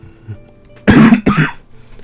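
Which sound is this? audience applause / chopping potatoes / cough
cough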